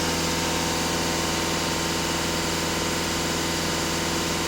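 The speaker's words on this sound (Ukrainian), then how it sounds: "Даю газ в пол." A VW Caddy 2.0 TDI diesel engine runs at full throttle, a loud, steady, droning roar held at high revs without letup throughout, no voices.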